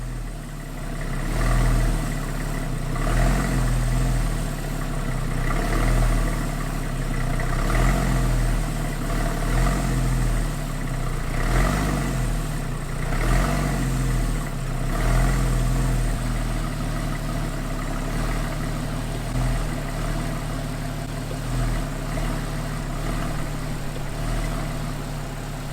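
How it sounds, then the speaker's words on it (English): Porsche 911 engine idling steadily as the clutch is slowly let out in gear and pressed back in, repeated several times, giving a continuous low rumble with periodic slight swells, close and fairly loud. "I'm slowly letting out the clutch to engage the engine just slightly, and then I'm pressing the clutch back in"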